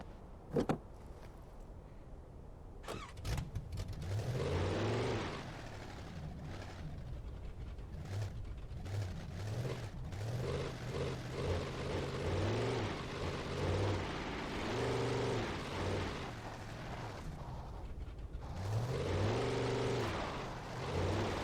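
Car engine in the video game Alan Wake, revving up and dropping back in repeated surges with rising and falling pitch, fairly faint, with clunks and a door-like thud early on and no talking.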